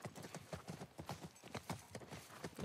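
Horse hooves clip-clop in The Last of Us at a quick, even trot, each clop distinct and fairly close, with no talk over them.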